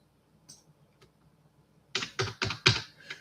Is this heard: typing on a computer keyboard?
yes